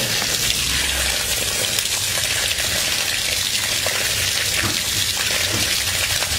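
Water gushes steadily from a household tap after a well-water backwash at a new house, a loud, continuous splashing rush with no talk.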